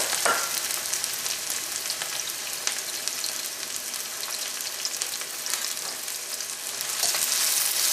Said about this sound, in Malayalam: ഈ സവോള നമുക്ക് നന്നായിട്ടൊന്ന് മുരിച്ചെടുക്കാം.